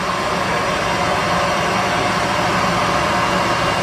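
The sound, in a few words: Boeing 737-200 engine starting in flight simulator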